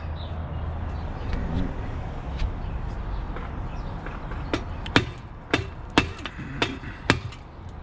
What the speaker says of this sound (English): I like to use a mallet because